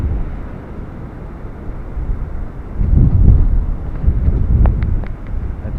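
Strong hurricane wind during Hurricane Dorian buffets the microphone in a broad, steady roar, swelling into louder gusts midway, with no talking.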